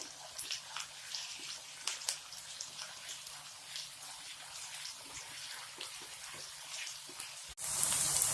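Ginger garlic paste fries in a pan, giving a soft, steady sizzle dotted with faint pops and crackles that ends in a louder hiss, all quiet and without any talking.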